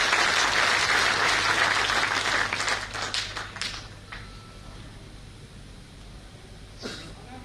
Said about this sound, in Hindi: उनके लिए भी एक बार जोरदार ताली